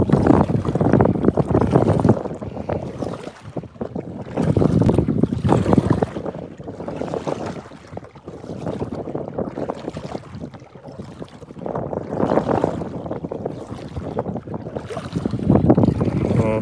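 Strong wind blowing hard at a lake pier, roaring and buffeting the microphone in surging gusts that swell and fade throughout, with no voices.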